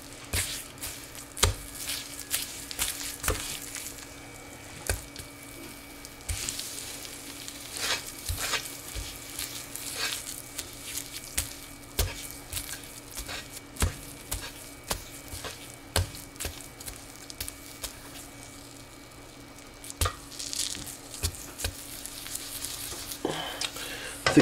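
Rocket candy fuel is stirred and mashed in an electric wok, with a steady low sizzle and a long run of sharp scraping, knocking strokes at an uneven pace. No one talks.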